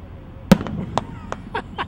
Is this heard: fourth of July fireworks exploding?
yes